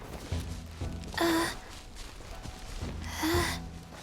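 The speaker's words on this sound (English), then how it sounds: "Stop panting so much." Heavy panting from a character in the game Genshin Impact: two loud, breathy gasping exhalations about two seconds apart, close up, over a low steady background.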